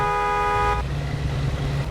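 A car horn in the Mafia II video game blares in a single steady honk for under a second outside a garage gate, then cuts off, leaving a low engine-like rumble underneath.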